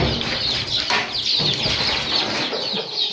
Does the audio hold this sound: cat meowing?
no